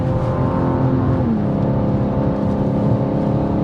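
BMW M2 G87 accelerating on a race track, a loud, close engine note that rises and shifts pitch steadily under sustained throttle, with no talk.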